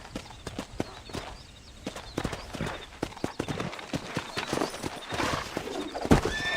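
Horse hooves clip-clop in a steady, uneven rhythm through a rural Brazilian-style open-world game, with a neigh cutting in near the end; the hoofbeats sit close and fairly loud over a low ambient bed.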